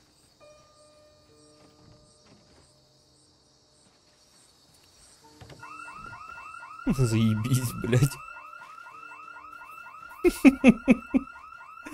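An alarm goes off at an unfinished building in the Project Zomboid video game, a rapidly warbling electronic siren that starts partway through and keeps cycling loudly, while a man swears over it and thumps sound near the end.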